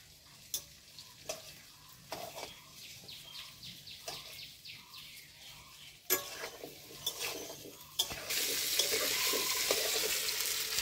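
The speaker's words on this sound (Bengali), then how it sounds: "পনির ভাজার তেলেই আলুগুলো ভেজে নেব।" Potatoes frying in oil left over from frying paneer, with soft sizzling and intermittent stirring clinks at a moderate distance, quiet at first, then a louder, denser sizzle in the final few seconds.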